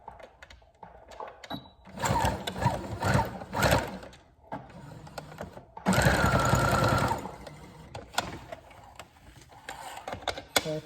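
A domestic sewing machine stitches elastic into a fabric scrunchie in close, bursty runs, short buzzing whirs separated by pauses, with one longer steady stitching burst midway.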